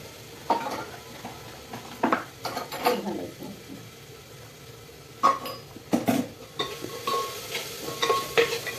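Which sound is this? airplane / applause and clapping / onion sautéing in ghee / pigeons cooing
onion sautéing in ghee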